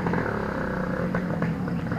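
Motorcycle engines rumble close by on a road damaged by Typhoon Karding, a steady, loud, dense drone with slight rises as bikes pass, and voices talking underneath.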